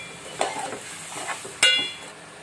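Drumstick, potato and cucumber curry with curry leaves being stirred in a pan, with a few scraping and clinking strokes of a spoon against the metal over a soft sizzle, one sharp knock near the end.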